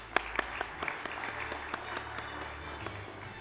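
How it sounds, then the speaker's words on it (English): At a maritime safety conference, an audience claps for a panelist. The applause is moderate and steady, with a few sharper individual claps that stand out, and nobody speaks over it. "Round of applause, Sharad, please."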